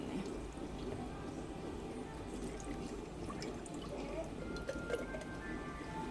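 Carnation evaporated milk poured from a can into a baked mac and cheese mixture, a steady liquid pour with soft drips, under faint background talk.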